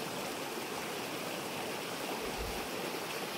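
A clear, cold river flowing beside a campsite, its steady broadband rush of running water continuous and unbroken throughout, moderately near with no voices.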